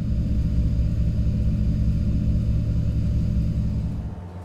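Cranchi Z35 motorboat cruising at its minimum planing speed of about 10 knots, a steady deep engine rumble that holds even throughout and eases off slightly at the very end.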